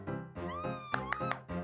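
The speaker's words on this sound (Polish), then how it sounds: "Kotek chce się poprzytulać." A kitten meows in a video game, giving a string of high, whiny mews in quick succession with a few sharper peaks, close and clear over a faint tonal background.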